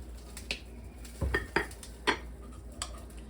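Spoon clinks and scrapes against a bowl as mayonnaise, mustard and honey are mixed into a honey mustard dip, a few distinct taps spaced over a quiet background.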